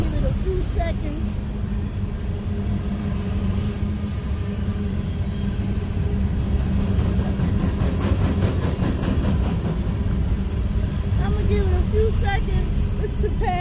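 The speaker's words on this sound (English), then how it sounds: "Y'all know a train always have to make its appearance in my videos." A train rolls past close by for the whole stretch, a loud steady rumble of rail cars with wheel squeal and rhythmic clatter on the tracks, heard alone outdoors on a cold morning.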